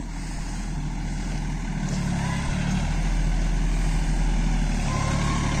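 A Swaraj Target 630 4WD mini tractor engine drones steadily at close range in high first gear, a low rumbling putter that grows slightly louder and heavier partway through.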